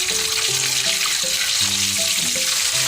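Chicken deep-frying in hot oil over high heat, a steady, dense sizzle filling the whole span, close and loud, with faint tonal hums underneath.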